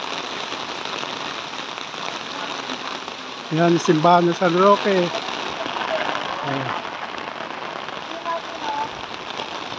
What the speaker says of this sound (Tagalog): Yan o, ang lakas po ng ulan ngayon.